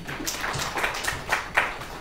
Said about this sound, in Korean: 박수 주십시오, 여러분